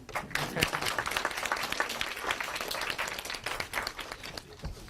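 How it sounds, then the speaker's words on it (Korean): A concert audience applauds with dense, lively clapping that holds steady throughout, loud and close, with no talking over it. "박수 한번."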